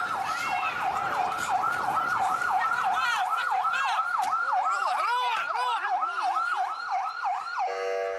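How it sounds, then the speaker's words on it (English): Loud wailing sirens from emergency vehicles overlap and rise and fall repeatedly, with a second siren joining midway amid background commotion. "There are screams of desperation and the sounds of sirens"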